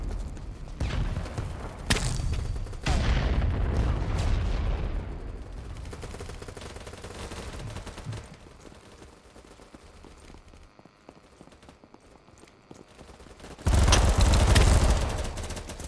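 Kriss Vector fire in the shooter game Battlebit, with loud bursts of shots early on, a quieter stretch with scattered distant shots, then another heavy burst near the end.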